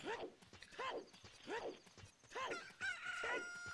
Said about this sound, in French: Un poulet sorti de ton œuf